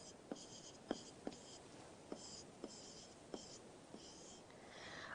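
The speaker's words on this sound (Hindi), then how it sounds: "तो लिख देते इधर" Marker or chalk writing on a classroom board, a series of short scratchy strokes and taps spaced irregularly over a quiet room hiss, fairly faint.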